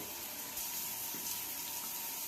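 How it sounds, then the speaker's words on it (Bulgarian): A running shower sprays a steady, hissing stream of water, close and continuous throughout, with no voices over it. "под душа съм в момента"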